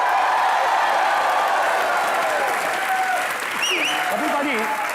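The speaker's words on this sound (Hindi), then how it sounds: "तालियां।" Studio audience applause at an Indian television comedy show, a dense sustained wash of clapping with some cheering that holds steady for the whole stretch while a voice and music-like tones sound faintly underneath.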